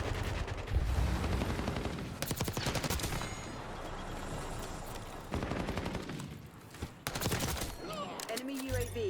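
Call of Duty: Black Ops 6 multiplayer firefight: loud, close bursts of rapid automatic gunfire come in several volleys, separated by short lulls of quieter game ambience.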